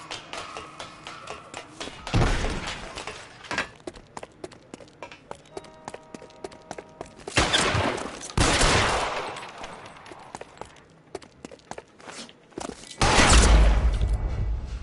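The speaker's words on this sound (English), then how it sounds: "Shotgun at close quarters." Close-quarters shotgun blasts in the video game L.A. Noire boom loudly in three heavy bursts with sharp attack and long decay, separated by quieter stretches of ticking and thumping game sounds.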